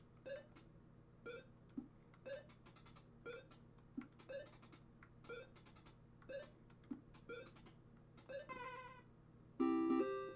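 A cartoon cat meows repeatedly in short evenly spaced calls over a steady low hum, ending with a brief burst of bright electronic beeping tones.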